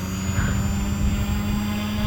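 An XK K130 brushless flybarless RC helicopter hovers nearby, giving a continuous droning whine of motor and rotor with a strong steady low hum and a high tonal whine, loud and even and with no talk over it.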